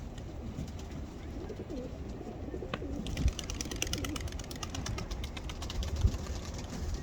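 Racing pigeons coo softly in the background at a loft amid low outdoor rumble and faint mechanical noise.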